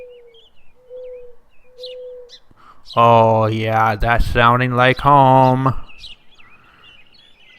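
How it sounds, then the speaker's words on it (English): Ambient robin birdsong in a Roblox map called Chocobo Acres gives a few soft, evenly spaced tonal calls, then someone speaks loudly over the faint background. "I can hear robins and I added the frogs."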